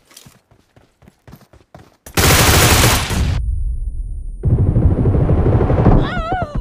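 Gun spray fire in BGMI, a few separate shots, then a loud sustained automatic burst, a short pause and a second long spray, close and harsh.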